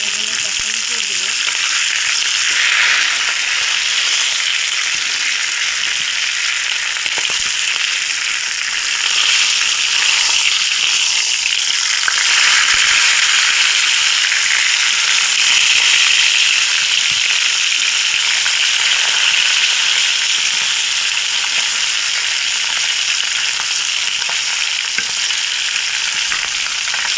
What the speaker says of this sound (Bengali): পেঁয়াজটা দিয়ে দিয়েছি, পেঁয়াজের মধ্যে মাছের তেলটা দিয়ে দিয়েছি।